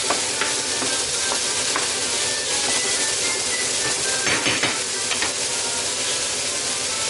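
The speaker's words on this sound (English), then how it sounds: "I have been sauteing my ham and mushroom mixture here for an extra 5 minutes" Ham and mushroom mixture sautéing in a pan over medium-high heat, a steady hissing sizzle with light crackles and occasional stirring, no talking.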